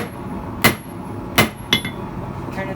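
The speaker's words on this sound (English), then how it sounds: "just hammer a little bit behind it" A hammer strikes a steel punch on an anvil to square it, giving three or four sharp, loud metallic blows at an uneven pace with a brief ring after each.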